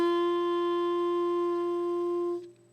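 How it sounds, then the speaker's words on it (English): A clarinet holds a single steady open G for over two seconds, a clean sustained tone rich in even overtones, close and moderately loud, ending with a quick release and no talking. "G, that's the note you're going to hear for clarinet"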